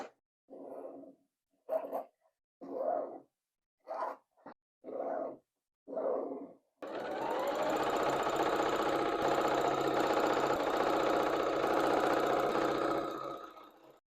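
A sewing machine piecing a quilt top runs in six short stitching bursts, then stitches steadily for several seconds at moderate loudness, with no talking.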